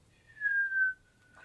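A voice imitates a whistling noise, a single sustained whistle tone that slowly glides down in pitch over about a second, heard clearly with no other talk.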